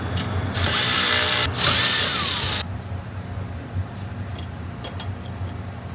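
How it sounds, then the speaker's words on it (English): A power tool drives 3/8 bolts on a Ford Super Duty torsion bar install, a loud close whir in two bursts with a brief pause between, then stops, leaving faint clicks and taps of tools afterward. "torque these to 33 foot-pounds."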